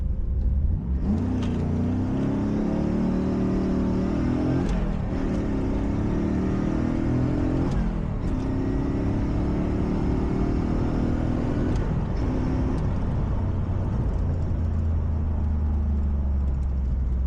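A low-budget Chevrolet Camaro Z28 with a six-speed manual accelerates hard at a quarter-mile strip, its engine roaring loud and close, then easing briefly before climbing again through several gear changes.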